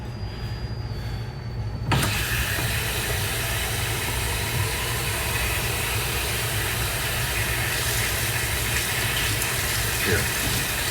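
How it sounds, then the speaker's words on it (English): A cup rinsed under a running kitchen tap: water gushes steadily and fairly loud for several seconds after a sharp start, with no talking. "Let me rinse this cup out."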